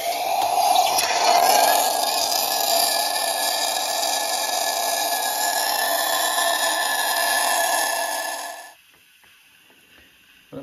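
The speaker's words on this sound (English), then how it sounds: "Now we've got a bit of steam." A Bosch espresso machine with a spinning cup producing steam: a continuous loud hiss and gurgle near at hand for about nine seconds, then it cuts off abruptly into quiet.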